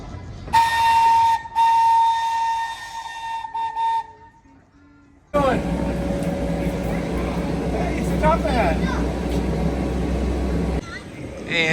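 A steady steam-style train whistle sounds for a few seconds, then a busy crowd murmurs with rumbling and scattered voices as a Thomas the Tank Engine excursion locomotive moves off, in Parrish, Florida.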